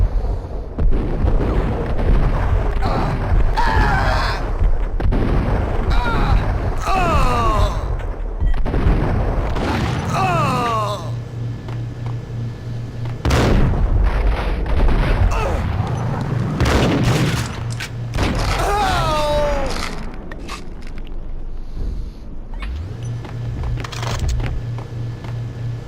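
Gunfire and explosions from the Max Payne video game: repeated booming blasts and shot bursts layered over a game soundtrack, loud and dense for the whole stretch with brief lulls, no talking.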